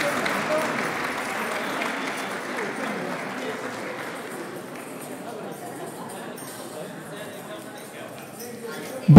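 Audience applause for a janeiras singing group at the sixth janeiras gathering in Abelheira, strongest at the start and then gradually thinning and fading toward the end.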